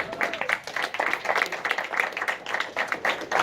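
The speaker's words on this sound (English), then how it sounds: "Give him a round of applause." Scattered clapping from a small audience, uneven and fairly faint, with some indistinct chatter mixed in.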